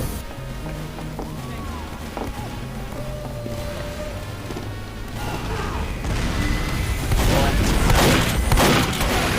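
Rapid bursts of gunfire from the video game Team Fortress 2 build to a loud, dense barrage, with game effects and a voice talking over the shooting.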